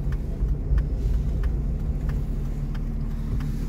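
A Polonez Caro Plus 1.4 16V Rover engine idles steadily with a low, even rumble, close by and unbroken, with faint ticking on top and no voices.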